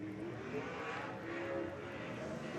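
A sprint car roars around the Cromwell speedway during time trials, its engine a steady, loud drone that holds for the whole stretch with slight surges.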